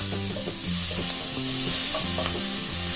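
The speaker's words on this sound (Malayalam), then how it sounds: "ഇഞ്ചി വെളുത്തുള്ളി പച്ചമുളക് മൂത്ത് വന്നിട്ടുണ്ട്" A ginger, garlic and green chili paste fries in ghee in a pan over a low flame, giving a steady sizzle with faint scraping and clinking in the foreground; no talking.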